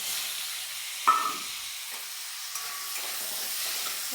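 Cut potatoes frying in oil in a pan after fish, a steady bright sizzle with a brief scrape of stirring near the start and lighter stirring touches later, close and alone without talk.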